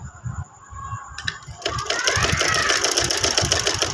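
A sewing machine stitching strips onto a sleeve starts in short bursts, then runs into a continuous fast mechanical whirr with rapid needle clatter, close up and getting louder, with faint background noise early on.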